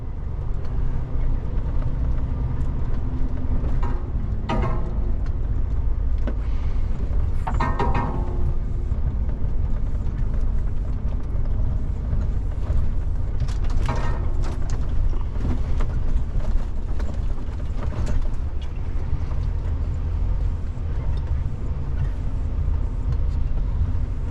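A truck hauling a Komatsu PC360 excavator rumbles along a rough rural road past a house, with a continuous low engine drone and road noise and occasional rattles and knocks from the load.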